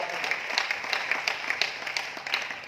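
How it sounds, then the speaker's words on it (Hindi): An audience at a seminar event in Aurangabad, Maharashtra claps steadily, a continuous moderate-level patter of many hands with no speech over it. "ताली जोरदार वाली बजा लीजिए सर"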